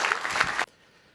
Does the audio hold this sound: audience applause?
yes